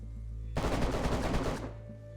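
A close, sharp burst of rapid automatic Kalashnikov fire in the DayZ video game, about a second of quick repeated cracks standing out above a quiet ambient background.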